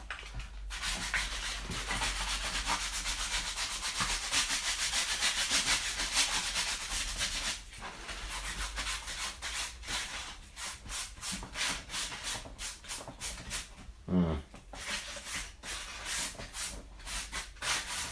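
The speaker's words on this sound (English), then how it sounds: "This is way easier with a Dremel than it is doing it by hand" A Dremel rotary tool grinds and sands a model figure of Nappa, a continuous abrasive rubbing hiss that runs throughout with brief pauses and shifts in pressure, fairly close and moderate in level.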